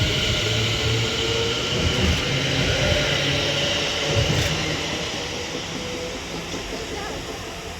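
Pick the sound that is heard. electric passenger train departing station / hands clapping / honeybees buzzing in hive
electric passenger train departing station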